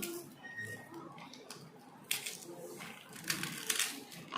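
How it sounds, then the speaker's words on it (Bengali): Dry, crackly crumbling and snapping close by, in uneven bursts that grow sharper toward the end, as fried lentil dumplings are broken apart by hand. "ভাজা বড়িগুলো এখন কুচিয়ে নেব"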